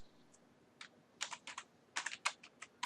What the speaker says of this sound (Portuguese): Digitei um ligado maiúsculo.